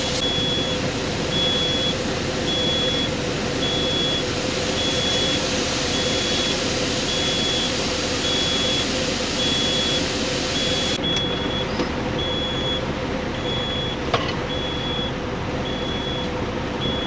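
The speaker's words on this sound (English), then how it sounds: "I like how it beeps at me" A truck's warning beeper sounds a steady, evenly spaced series of high electronic beeps over a loud, constant engine rumble, continuing for many seconds close by.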